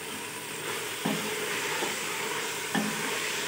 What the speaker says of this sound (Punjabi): ਹੁਣ ਇਹਦੀ ਭੁਨਾਈ ਕਰਾਂਗੇ।